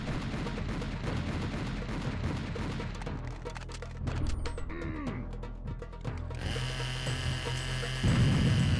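Dense gunfire from a video game, aimed at a plant: continuous loud rapid shots and booms throughout, with no pause, intensifying toward the end.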